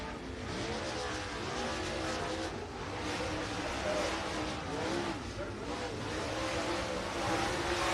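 Race cars run laps at Lake Cumberland Speedway, making a continuous roaring drone with rising and falling engine pitch as the field circles, steady and fairly loud throughout.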